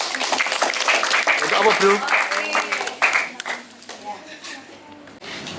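An audience claps at a talk on coastal sand dune ecosystems, a burst of applause that fades over a few seconds while people talk over it.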